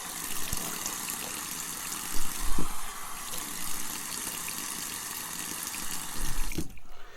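Tap water runs steadily into a bathroom sink as the face is wetted before a shave, a continuous close splashing flow with a few louder gushes and small clatters near the end.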